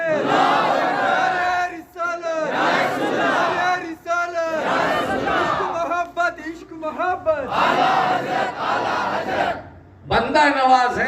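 A large crowd at a religious gathering chants the takbir, Allahu Akbar, in loud unison, the rhythmic shouted phrases rising and falling in repeated waves.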